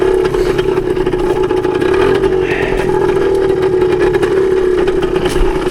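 A 1981 Suzuki DS100 trail motorcycle runs steadily on a wooded trail, its small engine droning loud and close for several seconds with a constant, slightly rough tone and no clear rev spikes.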